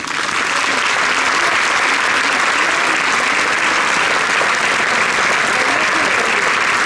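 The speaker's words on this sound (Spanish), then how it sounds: "Para todos ellos pido un aplauso de bienvenida." Sustained applause from a large crowd welcoming a bagpipe band at a street festival parade, loud and steady throughout with dense, continuous clapping and no break.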